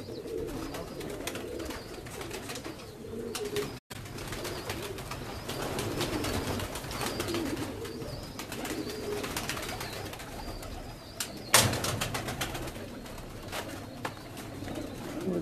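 Pigeons coo softly and repeatedly, their low, throaty calls rising and falling over a steady outdoor background with a sharp knock partway through.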